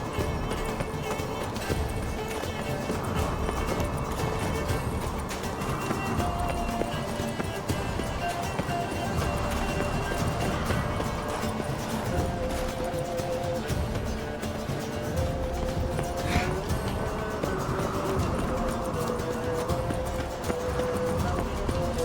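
A horse gallops through a race in The Witcher 3: Wild Hunt, its hooves pounding in a steady rhythm beneath game music, with someone talking over it throughout.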